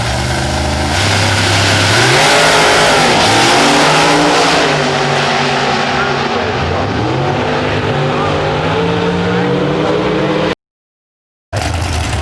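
Two drag racing cars, a black Chevrolet Cavalier and a Corvette, launching side by side at the 2007 IHRA Presidents Cup Nationals, loud engines roaring and climbing through gear changes before cutting off abruptly near the end.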